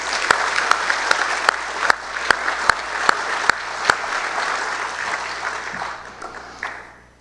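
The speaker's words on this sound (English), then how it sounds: "So I want to give them a round of applause." A graduation celebration audience applauds steadily for several seconds, dense clapping from a sizable crowd with a few louder sharp claps standing out, then tapering off toward the end.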